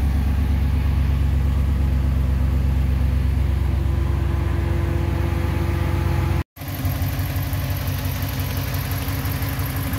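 A Ram Hemi V8 with about 51,500 miles idles steadily and loudly, a light ticking faintly audible within the even rumble, with a brief dropout around the middle before the idle resumes.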